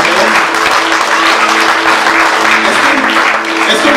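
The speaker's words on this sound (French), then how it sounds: "On peut applaudir." Church congregation clapping together in sustained, loud applause, a dense continuous patter of many hands filling the room from start to finish.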